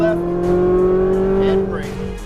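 Exotic race car on a Las Vegas track accelerating hard out of a turn, engine note climbing steadily and loud up close, with a spoken instruction over the engine and a brief tire squeal near the end.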